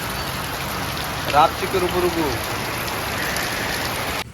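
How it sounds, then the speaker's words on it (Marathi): Heavy rain falls steadily as a dense, continuous hiss throughout, with a brief voice cutting in partway through. "खूप पाऊस पडत होता"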